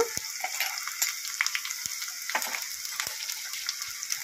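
Garlic, mustard seeds and cumin sizzle in hot oil while tempering a lentil rasam, a steady hiss dotted with sharp crackling pops and spits at close range, no voices present.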